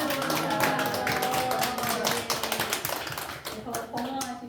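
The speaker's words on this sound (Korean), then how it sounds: "우리 박수로 축하를 박수로" Birthday applause from a church congregation during a Sunday service, a dense patter of many hands clapping steadily for several seconds, with voices and stray tones mixed in underneath.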